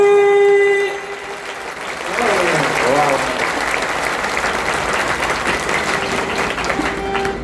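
A kirtan audience at a Varkari festival gathering in Maval taluka breaks into loud, sustained group clapping right after a voice, the dense applause holding steady for several seconds.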